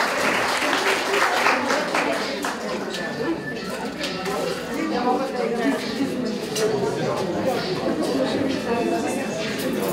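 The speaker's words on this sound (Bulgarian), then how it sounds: "Аплодисменти за тях!" An audience applauds a dance troupe from a youth center at an April Uprising reenactment event in a village; a dense, steady wash of clapping runs the full length, with some voices mixed in.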